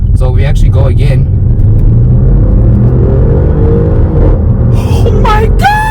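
Used Audi C7 RS7 accelerating hard from inside the cabin, a loud, continuous deep engine rumble and road roar that builds steadily, with voices talking over it.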